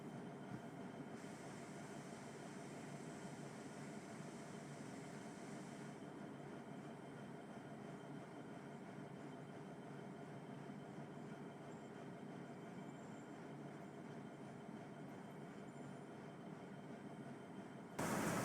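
A train rolling steadily in Train Simulator 2021 on the Peninsula Corridor near San Francisco, with continuous rumbling wheel and track noise and a constant engine drone, with no talk heard.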